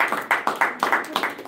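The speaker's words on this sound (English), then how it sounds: "Round of applause" A small group of trainees gives a short round of applause, a handful of close, sharp, evenly spaced claps that stop after about a second and a half.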